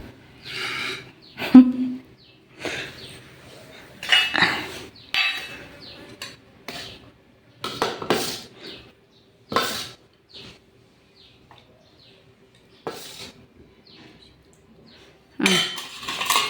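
A spoon clinks and scrapes against plates and bowls of puri and ghugni in separate bright bursts spread unevenly over the stretch, close by, with quiet gaps between them.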